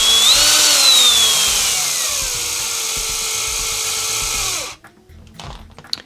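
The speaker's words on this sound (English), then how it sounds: "I'm going to be using my Phillips head bits on my screwdriver" A cordless power screwdriver fitted with a Phillips bit drives screws while assembling a G-Made R1 rock buggy kit, a steady close whine that runs for over four seconds, slowly falls in pitch and then cuts off into quiet handling clatter.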